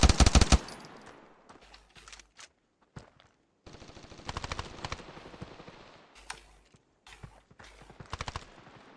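Rapid bursts of automatic gunfire from the mobile shooter game Standoff 2 crackle in short clusters separated by pauses, with game footstep sounds in between and no talking over them.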